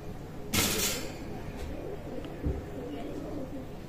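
Omani-bloodline teddy pigeons coo in low, repeated murmurs close by, with a sudden brief flurry like fluttering wings early on and faint chirps in the background.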